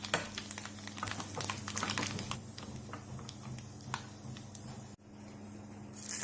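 Soft, crackling sizzle of split black lentils and mustard seeds frying in oil on very low heat, with scattered quiet pops and a brief clatter near the end.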